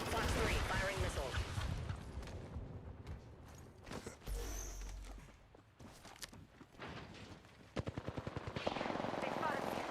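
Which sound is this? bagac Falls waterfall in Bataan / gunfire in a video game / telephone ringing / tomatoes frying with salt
gunfire in a video game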